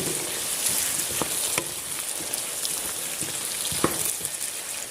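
Ingredients frying in a pan for Karnataka-style bisi bele bath, a steady close sizzle with scattered light pops and crackles throughout, no voices.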